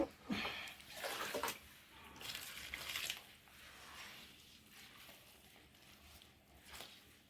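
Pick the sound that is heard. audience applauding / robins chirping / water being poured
water being poured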